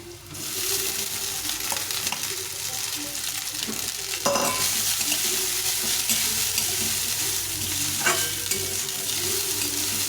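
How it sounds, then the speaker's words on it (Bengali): Cooked rice frying with onion and garlic in a pan, a steady close sizzle running throughout with scraping stirs of a spatula, a louder burst of stirring midway. "ভাতটা দিয়ে এরকম ভালো করে ভাজতে হবে"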